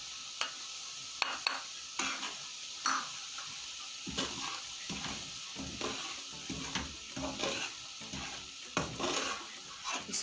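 Gram flour and lightly browned semolina roasting in a pan, with irregular scraping and clinking strokes of a spoon against the metal over a faint dry sizzle, close and fairly quiet, no voices.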